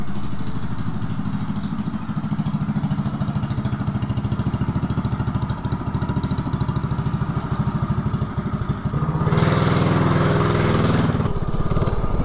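A mini bike's small engine runs without a head gasket, chugging with a steady, rapid putter that grows louder and harsher as it revs up near the end, close by.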